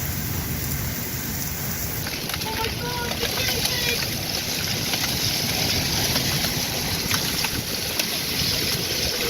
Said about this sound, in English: from the safety of our tiny house, we watched this mega storm intensify